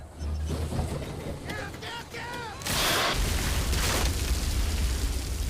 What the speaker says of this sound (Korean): 석유 작업 중 폭발해버린 가스로 인해 HW는 청력을 잃게 되지만